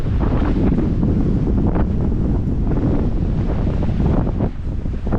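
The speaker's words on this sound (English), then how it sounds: "This wind came out of nowhere and it is wicked." Strong wind from a sudden windstorm at Dale Hollow Lake roars steadily across the microphone, a loud continuous buffeting rush with no break.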